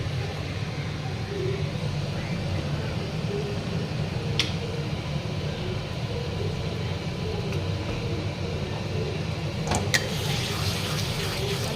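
Water is poured into a pot of mutton curry, a steady liquid rush with a low rumble beneath and a few faint clicks.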